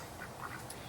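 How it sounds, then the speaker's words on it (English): A pet duck quacks a few times in quick succession, close and clear, with no talking over it. "That's what the ducky says."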